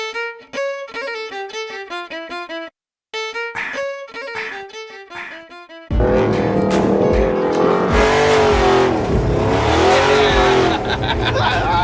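A project car on bogger tires revs hard under throttle, a loud roaring engine with rising and falling pitch and tire noise, following a stretch of clipped, clearly separated engine bursts.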